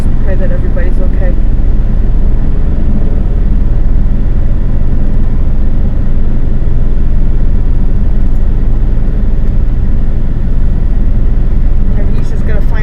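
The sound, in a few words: helicopter landing on rugged terrain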